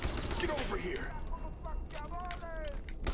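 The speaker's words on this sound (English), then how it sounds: "He's shooting at me." Army of Two: The Devil's Cartel co-op firefight with shotgun fire, scattered shots and mechanical clanks under steady game noise, while players chat over it.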